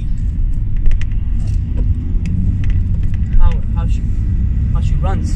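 A remapped diesel Audi A4 accelerates on a pull, heard from inside the cabin as a loud, steady engine rumble that swells briefly. People talk over it.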